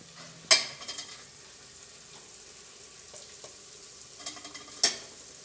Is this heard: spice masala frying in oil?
yes